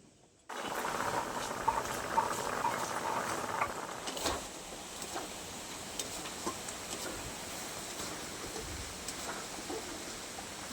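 Mung dal simmering in a pot, a low steady bubbling with faint scattered pops and ticks, quiet and close, alone without talk.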